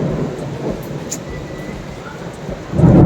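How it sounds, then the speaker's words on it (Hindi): Heavy rain pours steadily in Kuala Lumpur, a dense continuous wash of sound close by that swells louder near the end, with no voices. "इतनी तेज बारिश हो रही है।"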